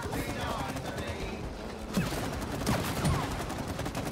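Rapid gunfire in the co-op video game It Takes Two, a dense continuous burst of shots that fills the whole stretch at steady loudness, with a few brighter cracks poking out midway.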